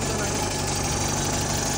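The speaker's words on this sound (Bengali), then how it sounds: "ইঞ্জিনের সাউন্ডটাও শুনিল স্টার্ট দিয়া দেখিলাম ইঞ্জিনের সাউন্ড" An old Mahindra Scorpio VLX with a carburetor engine idles at a close, steady rumble, holding even and continuous throughout.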